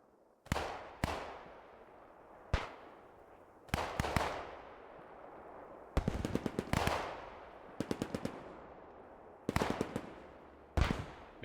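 Machine gun fire in a war video game: short, loud bursts and single shots, each followed by a long echoing decay, separated by brief near-silent gaps across the clip.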